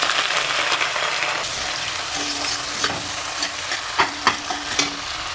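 Sliced onions fry in hot oil in a pan for chicken khichra, a steady loud sizzle throughout, with a few sharp clinks and stirring knocks toward the end.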